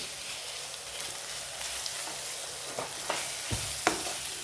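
Prawns frying in ginger garlic paste give a continuous close sizzle, with a few sharper pops and a spoon scraping the pan in the second half.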